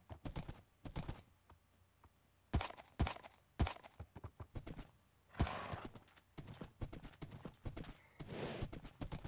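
Donkey hooves in the Minecraft video game, irregular clip-clop footsteps in short bursts with pauses between them, crisp and fairly quiet.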